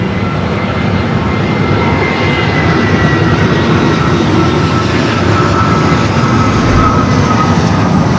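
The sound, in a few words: Boeing 747-400 freighter jet aircraft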